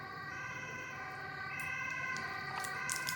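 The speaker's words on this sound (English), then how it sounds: "the sirens are here again" Sirens wail with steady sustained tones, fairly faint and distant, rising a little in loudness toward the end.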